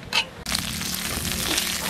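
Steady crackling sizzle of fermented pork frying in hot oil, close and continuous after a brief sharp start.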